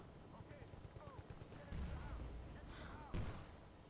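Rapid bursts of Battlefield: Bad Company 2 gunfire crackle with heavy booming impacts, one big blast near the end, while a voice talks over the action in Romanian.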